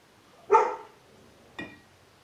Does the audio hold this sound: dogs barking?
yes